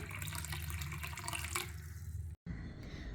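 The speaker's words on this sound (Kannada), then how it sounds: "ಈಗ ಇದಕ್ಕೆ ನಾನು ಉಗುರು ಬೆಚ್ಚಗಿನ ನೀರನ್ನು ಹಾಕೊತ ಇದ್ದೇನೆ" Lukewarm water is poured into a lemon and ginger drink in a steady, close, continuous splashing stream that stops abruptly near the end before faint trickling resumes.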